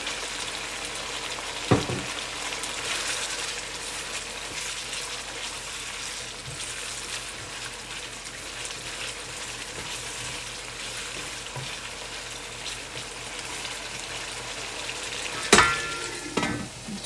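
Beef chowmein frying in a pan after a splash of soy sauce, with a steady sizzle and a couple of sharp clattering stirs near the start and end, no talking.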